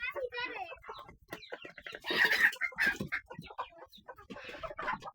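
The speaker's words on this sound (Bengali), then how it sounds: "তিনটে ঘাস মুরগি ঘরে উঠে গেল" Chickens cluck in short bursts as they go into the coop, close by, mixed with people talking and a voice.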